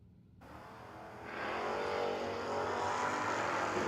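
No-box drag race cars, including a Dart, launching down the strip, a steady loud engine roar that swells after a second and holds as they run.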